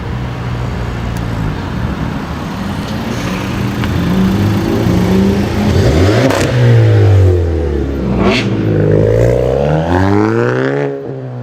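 A Volkswagen 2-liter turbocharged engine in the racing game Need for Speed No Limits revs hard and loud, climbing and falling through several gear shifts with rising and dropping pitch, close and continuous with no talk.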